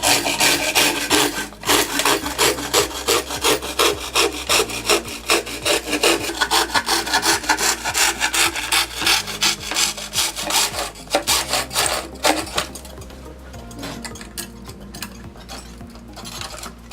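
A hand saw cuts through a wooden panel held along a saw guide, a close, loud rasping back-and-forth stroke repeating steadily for the whole stretch.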